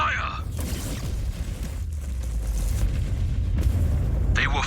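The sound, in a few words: spaceship weapons firing and exploding in cinematic space battle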